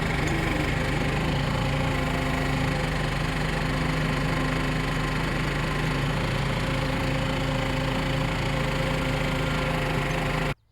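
A borrowed farm tractor engine runs steadily and loudly at close range, with a continuous rough mechanical drone and no talk, cutting off abruptly at the end.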